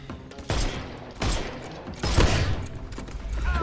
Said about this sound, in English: For a pistol in the 1800s, that's hella fast pistol